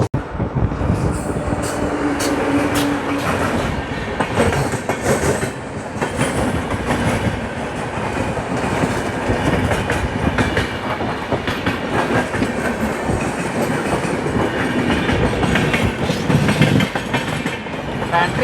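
A long passenger train on the Howrah–Secunderabad special service runs over the rails, its loud, continuous rumble broken by a steady clickety-clack of wheels over rail joints, heard close from onboard.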